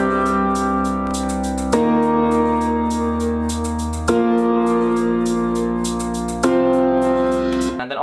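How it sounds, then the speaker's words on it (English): Mellow electronic intro with sustained piano chords, a deep bass line and a steady shaker loop ticking on top, changing chords every couple of seconds. "in the intro right now, there's only a piano, some bass, and a... this is just a shaker loop"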